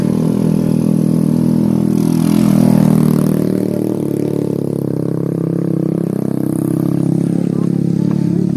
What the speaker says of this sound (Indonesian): ini motor mau naik puncak